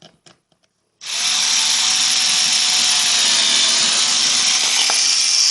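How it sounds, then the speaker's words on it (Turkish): A few faint ticks, then a power drill with a converted chuck starts loudly and runs steadily with a high whine as it bores through thin plywood, close and continuous. "Konta plak delmeye çalışacağız."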